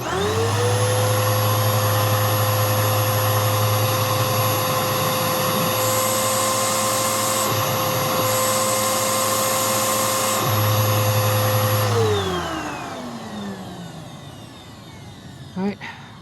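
A Bissell Powerforce Helix upright vacuum cleaner runs at a steady high whine with a constant motor drone during a suction test, briefly shifting in pitch before shutting off and spinning down near the end.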